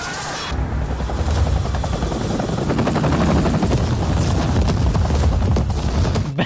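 A fighter helicopter roars loud and close, its rotor chopping in a fast steady pulse with a whining turbine above, continuous for several seconds.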